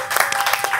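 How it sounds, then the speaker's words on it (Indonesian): Brief burst of applause from a small group clapping for everyone on the Komsos team during a talk show, bright rapid claps, close and alone with no talk. "Tepuk tangan untuk semuanya"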